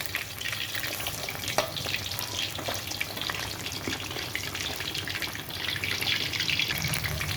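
Pork skin frying in hot oil while oil is ladled over it: a dense, steady sizzle and crackle throughout, close and fairly loud, with occasional pops and no talking.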